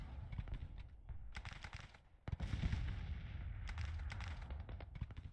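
Rolling musket volleys and artillery fire crackle and boom across a Civil War battlefield in the strategy game Grand Tactician, a dense, continuous barrage with sharp bursts of shots layered over a low rumble.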